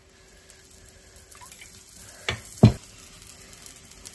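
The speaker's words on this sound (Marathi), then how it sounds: "पहिला डोसा मी छोटाच घालणार आहे जेणेकरून निघेल तो डोसा व्यवस्थित." A small first dosa of batter goes onto a hot griddle, giving a quiet sizzle with two sharp bursts of hiss near the middle before settling back to a faint background.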